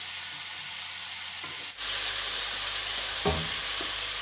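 Ginger paste frying in a pot for a beef curry gives a steady, close sizzle, with a couple of soft scraping stirs partway through.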